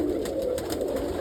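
Short-faced pigeons cooing softly and steadily in a loft full of nest boxes and feeders, with several birds overlapping in a continuous low murmur.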